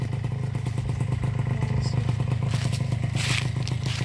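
A standard Kawasaki Ninja R motorcycle taken onto an off-road trail runs with a steady low engine rumble, accompanied by metallic clatter and scraping rattles throughout.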